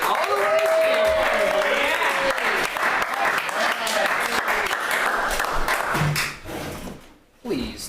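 Loud, dense applause from a live polka concert crowd in San Francisco continues for several seconds, with whoops and voices mixed in, then thins and drops away near the end.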